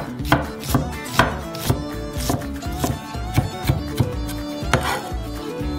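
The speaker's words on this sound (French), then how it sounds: "Hachez finement l'oignon rouge dans un mortier." Red onion being finely chopped in a mortar, a steady series of sharp knife knocks in an irregular rhythm, close and fairly loud, with no talking.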